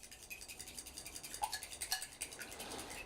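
A fork whisks eggs in a bowl, producing a faint, rapid clicking and tapping against the dish for a few seconds.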